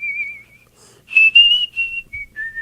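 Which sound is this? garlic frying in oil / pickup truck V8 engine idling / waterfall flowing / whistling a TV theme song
whistling a TV theme song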